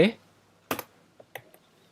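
Computer keyboard keys are pressed for a Ctrl+C copy shortcut: a few crisp, close clicks in quick succession separated by quiet gaps.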